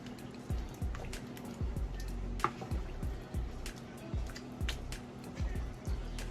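Stewed neck bones in thick gravy being stirred with a spoon in a pot, giving repeated soft wet squishes and drips in a steady rhythm, close and moderately loud against a low steady hum.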